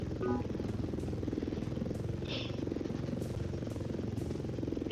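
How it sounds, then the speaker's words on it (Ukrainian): Mi-24 Super Hind attack helicopter in a video game, its steady rotor and engine drone running loud and constant throughout, with a brief higher whine partway through. "це самий перший гелікоптер, у якого є бомби"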